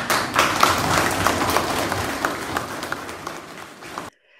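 Dense audience applause at a health webinar, a steady wash of many hands clapping that gradually thins and then stops suddenly.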